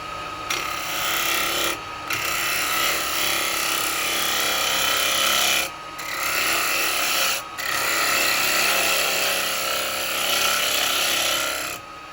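A half-inch spindle gouge cuts a Meranti bowl on a lathe, making a loud continuous rasping, shaving roar close by, broken by brief pauses where the tool lifts off the wood.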